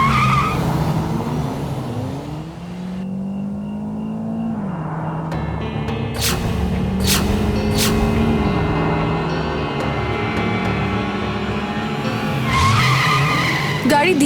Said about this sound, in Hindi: गाड़ी धीरे चलाओ आदि प्लीज